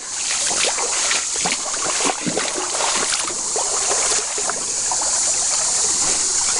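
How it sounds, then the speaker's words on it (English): Creek water rushes and splashes steadily nearby just below a small waterfall, a constant bright babble with no voices. "There's a little waterfall right upstream."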